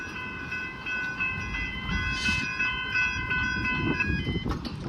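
A train passes at the Station St level crossing in Seaford, Victoria, a continuous rumble and rattle of rail cars on a cold day, with high steady tones ringing above it, nearby and with no talking.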